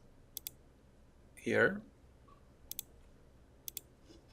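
Sharp double mouse clicks in bridge design software sound three times, near and crisp, with one short burst of speech in between.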